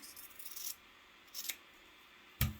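Scissors trim a fabric strip for a braided rag rug, giving three quiet, close snips separated by pauses, the last one sharper with a small thump.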